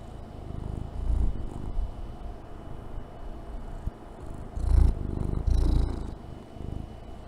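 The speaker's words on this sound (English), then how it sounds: "Are you purring right now? I can feel it." A cat purring close up, a low rhythmic rumbling in steady breathing cycles, the louder pulses rising and falling with no talk over it.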